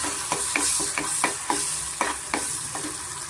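Masala paste sizzles in a hot pan for a peanut curry while a spoon scrapes through it at a steady rhythm, about one stroke every half second, close and clear over a constant hiss, with no voices.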